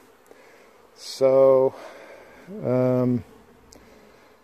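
Honey bees at a hive in Newfoundland in June produce two short, loud buzzing bursts close to the listener, separated by quieter background.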